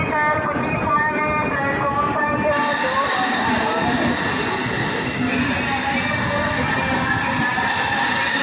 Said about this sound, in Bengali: ঠিক টাইমে ট্রেন ঢুকেছে দিলদা উপাধ্যায়।